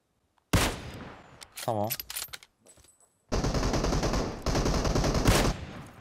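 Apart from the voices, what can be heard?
Uzi gunfire in the video game PUBG Mobile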